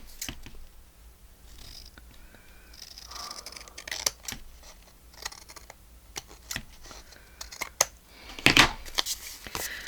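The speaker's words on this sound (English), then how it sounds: "Now I need to trim that little piece off." Scissors snip at a piece of paper for a handmade flip flop flip fold journal, producing sparse, crisp cuts and small paper rustles nearby in a quiet room.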